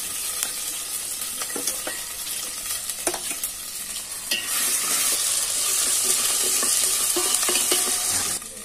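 Garlic fries in sweet oil at the start of a village-style mutton curry, giving a loud continuous sizzle punctuated by clattering stirring strokes, the hiss surging brighter midway through.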